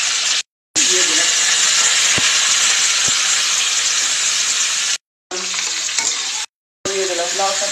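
Green chilies and whole spices frying in oil with potato and gourd stems: a loud, close, continuous hiss and sizzle, broken by a few short gaps of silence and light clinks.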